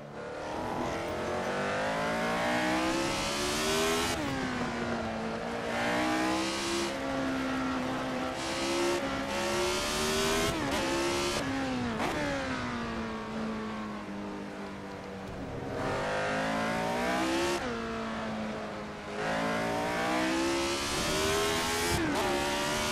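Retro Formula 1 race car engines in the Assetto Corsa sim at the Nürburgring scream loud and steady, with several cars overlapping, pitch climbing through gears and dropping on downshifts, continuous throughout.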